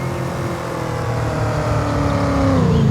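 A car engine drones steadily and climbs slightly in pitch as the car drives uphill on the Judith Plains, Montana map of a farming video game, alone and close with no voices.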